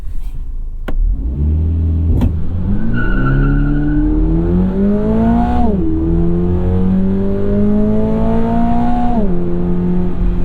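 2022 Subaru BRZ with automatic transmission accelerating hard from a standstill to 60 mph, engine note climbing steadily through long gears with two audible shift drops, loud and close from inside the cabin.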